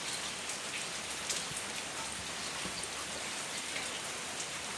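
Steady rain falls at a house in Sattahip, Thailand, a continuous hiss of drops on surfaces with small patters and splashes, even and close, with no voices.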